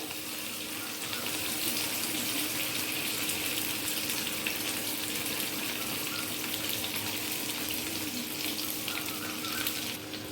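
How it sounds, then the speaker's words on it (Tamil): Chicken pakora frying in oil on medium flame, giving a steady, dense sizzle that holds evenly throughout, close and continuous with no talking. "இதை வந்து நம்ம மீடியம் ஃப்ளேம்லேயே வச்சு ஃப்ரை பண்ண போகிறோம்."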